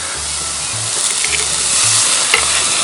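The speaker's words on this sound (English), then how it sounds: "You hear that Sportsman's grill working." Eggplant slices sizzling on a hot Sportsman's grill outdoors, a loud continuous frying hiss that swells slightly toward the end, with a low rhythmic hum underneath and no talking.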